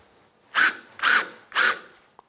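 A cordless drill bores and countersinks a hole with hex-shank bits, in three short, close whirring bursts separated by brief pauses.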